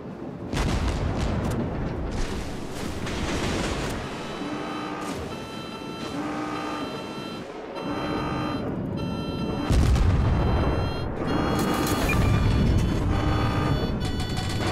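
Naval gunnery duel in a video game, booming gunfire blasts recurring irregularly over a steady engine-like drone and tonal alert beeps, loud and without talk.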